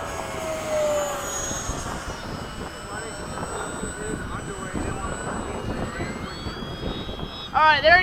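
RC model jets, an FMS Avanti and a Habu 32 flying in formation, make a low pass at an airfield with a continuous rising and falling turbine whine. People talk over the sound, and a sharp whooshing sweep comes near the end.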